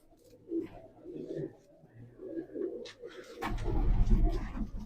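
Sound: pigeons cooing

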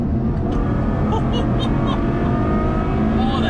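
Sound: Ferrari GTC4 Lusso V12 engine accelerating

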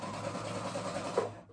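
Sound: sewing machine sewing a basting stitch

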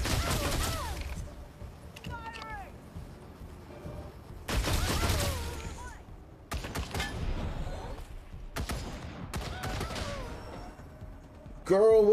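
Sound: gunfire in the video game Wasteland 3

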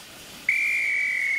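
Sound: railway guard blowing his whistle before steam train departs

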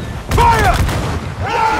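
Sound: ship cannons firing in video game Assassin's Creed IV Freedom Cry

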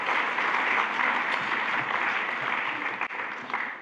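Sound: audience clapping

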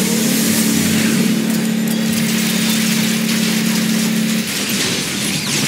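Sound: vehicle engine accelerating, from a video game

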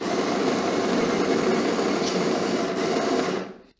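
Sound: 150 watt electric coffee grinder running

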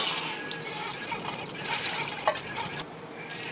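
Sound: water draining from soaked fenugreek seeds and chickpeas

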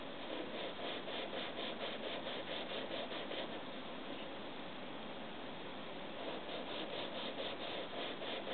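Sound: engraving burin sharpened by grinding on a sharpening stone

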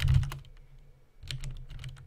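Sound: typing on a computer keyboard

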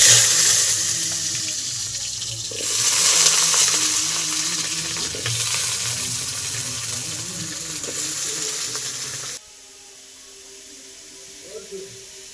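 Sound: potatoes frying in oil

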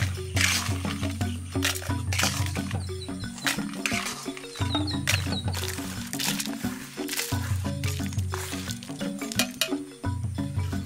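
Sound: mixer grinder grinding roasted spices into powder

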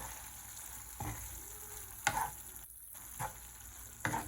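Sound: eggs sizzling as they fry in spiced masala

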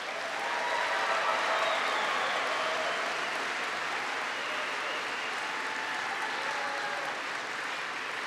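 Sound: audience applause for President Obama

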